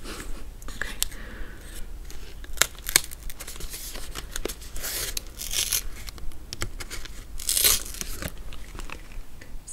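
Banana Beauty Velvet Lip Mousse packaging is peeled open in close, crinkly tearing and crunching bursts, irregular and intimate, with soft whispered speech woven between the sounds.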